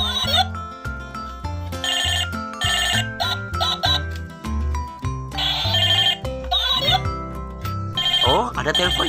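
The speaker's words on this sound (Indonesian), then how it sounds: "Oh, ada telepon ya" A telephone rings in a busy play scene about selling ice-cream lollipops, its repeated bell tones sounding over cheerful music and other noises.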